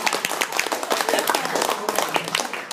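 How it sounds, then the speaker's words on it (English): Audience at a motivational talk clapping their hands together, a steady mass of overlapping claps lasting a few seconds at moderate loudness, with some voices mixed in. "please clap your hand,"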